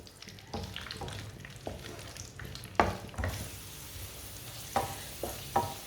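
Makhandi halwa ingredients cook on a low stove flame with a soft, low-level sizzle and intermittent spoon clinks and scrapes as the mixture is stirred.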